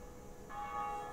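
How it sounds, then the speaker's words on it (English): Church bell rung in the video game Dark Souls, a single struck tone that swells and rings on with a sustained, slowly fading hum, heard alone without talk. "Rung the bell!"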